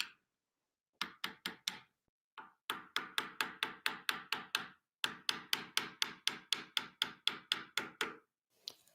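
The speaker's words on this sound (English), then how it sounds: "Now I'm coming in with this bezel punch and a hammer." A hammer taps a bezel punch to set a stone, giving a steady run of sharp, close metallic taps in quick groups with brief pauses and no talk.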